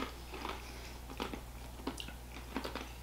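Taco Bell cheddar crisps are bitten and chewed close to the mic, making several faint, quick crunches over a low background hum.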